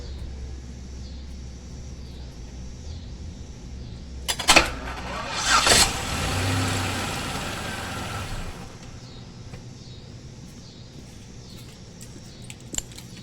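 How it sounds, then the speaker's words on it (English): A car's starter is bumped with the key to spin the engine and loosen a crank pulley: a sharp mechanical burst, then a few seconds of loud, rough cranking noise in a quiet garage. "take the key and bump the starter over"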